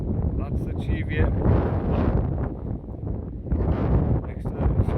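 Strong wind buffets the microphone on a hilltop in Harwood Forest, Northumberland, a steady loud roar with gusts swelling and easing across the whole stretch.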